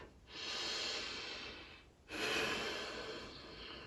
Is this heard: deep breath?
yes